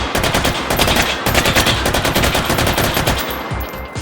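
An M249 SAW light machine gun fires in the video game H3VR, one loud continuous automatic burst of rapid, evenly spaced shots that runs the whole time with no pause.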